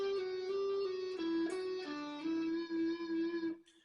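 Electric guitar plays a solo lick, a short run of sustained, slurred notes with slides, clean and close, ringing for a few seconds before cutting off.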